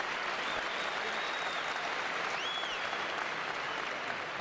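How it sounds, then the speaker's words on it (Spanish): A basketball arena crowd at the Buesa Arena claps steadily during a pro game, producing a dense, far-off roar of applause that carries throughout with faint whistle-like tones above it. "Aplaude"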